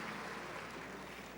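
Church congregation applauding together during a worship service, a dense, steady wash of clapping filling the room at moderate loudness with no pause.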